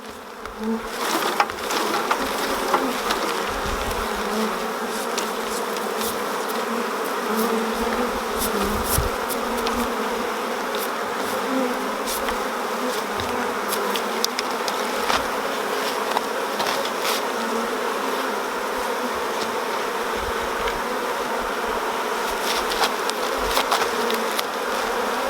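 A dense, steady drone of many honey bees buzzing close by as they are shaken from frames into a hive, continuous and fairly loud, with occasional individual bees zipping past the microphone.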